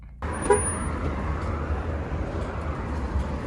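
A car heads onto a freeway, its engine and road noise starting abruptly and holding as a steady, close low rumble with a faint high tone above; no one speaks.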